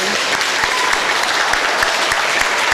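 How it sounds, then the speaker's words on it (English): Audience applause at a Sulphur Springs FFA chapter banquet, dense and steady clapping from a large crowd filling the room at full volume, with a few sharper claps standing out. "Please give another round of applause for your new Sulphur Springs FFA officer team."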